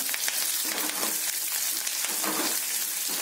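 Fresh curry leaves hit hot oil in a tempering for millet pongal, giving a loud, steady crackling sizzle with fine spitting pops throughout and no talking.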